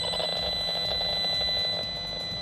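An electromagnetic radiation meter emits a loud, continuous high-pitched electronic tone that holds steady with a slight pulsing throughout.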